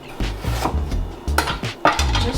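Carrot pieces fall and knock onto a cutting board in a quick series of close, hard, woody thuds and clatters, several distinct impacts with no talking.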